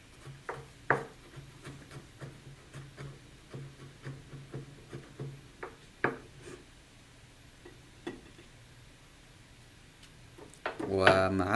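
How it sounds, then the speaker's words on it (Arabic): A knife chopping garlic into small pieces on a board, a series of short, fairly light taps at an uneven rhythm, close by, ending in a brief louder rustle. "نقطع الثوم إلى قطع صغيرة أو نفرم الثوم مثل ما أنتم عاوزين"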